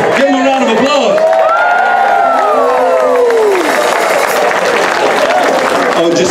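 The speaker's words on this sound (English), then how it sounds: "Give them a round of applause." A lively crowd at a sausage festival music jam claps, cheers and whoops loudly for guest musicians, with voices rising and shouting through the applause.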